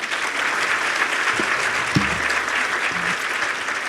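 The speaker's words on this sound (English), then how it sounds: "Round of applause for Erica." Audience applause for an award recipient at a women-in-business breakfast, steady full-room clapping with a few low voices murmuring underneath.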